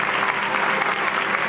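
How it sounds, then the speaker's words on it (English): An audience claps for a volunteer after a magic rope-restoration trick at a stage show, a short burst of steady applause at moderate volume. "Let's give John a nice big round of applause"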